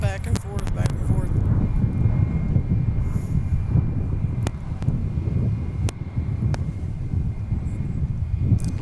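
Airbus A321 airliner landing at DFW Airport, a steady low roar of engine and wind noise holding loud throughout, with a few sharp clicks and brief tonal blips over it and some voices mixed in.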